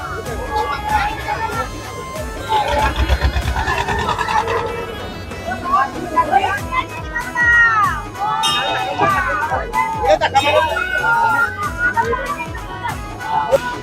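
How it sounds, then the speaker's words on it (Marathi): A lively crowd gathers at Murba Ganpati temple in Morave Koliwada, with overlapping voices, children's chatter and general babble filling the space close by. "फुल पब्लिक भरून गर्दी वाढत चाललेली आहे"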